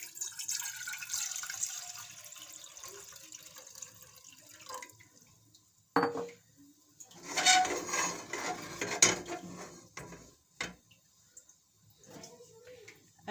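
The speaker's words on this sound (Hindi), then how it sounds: "अब इसमें हम पानी डालेंगे।" Water pours into a pan on a stove while a sugar syrup for suji halwa is started. A close, gurgling trickle shifts in pitch as the pan fills, followed by a few clinks and splashes.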